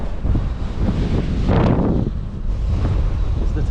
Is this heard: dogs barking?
no